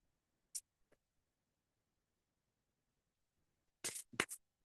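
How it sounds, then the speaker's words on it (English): Tarot cards are shuffled, giving a few short, crisp riffles and flicks: two isolated snaps near the start, then a quick cluster of three louder shuffles after a quiet pause. "I can't seem to stop shuffling here."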